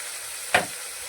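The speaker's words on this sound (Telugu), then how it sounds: "ఇవన్నీ ఒకసారి ఇలా కలిపేసుకోవాలి" Chili powder and ginger garlic paste stirred into a tomato curry in a hot pan, a single short sizzling scrape from the spoon rising briefly over a quiet background hiss.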